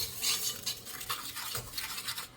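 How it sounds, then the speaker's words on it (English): Dry ingredients for homemade banana pudding whisked together in a bowl, a quick run of close scraping and light clinking strokes in an uneven rhythm, heard alone without talk. "So I just whisk it together so everything's incorporated really well"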